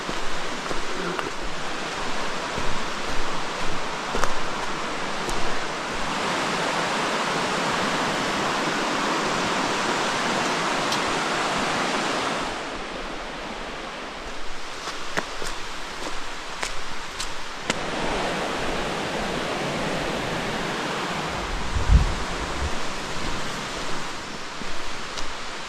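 Deep Creek rushing along near a campground in the Smoky Mountains, a steady broadband wash of flowing water that stays loud for most of the stretch, dips briefly, then resumes, with occasional faint footsteps or handling noises.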